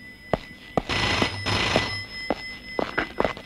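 A telephone ringing in a comedy scene, a steady electronic ring tone sounding throughout with sharp clicks and thuds interrupting it, fairly close.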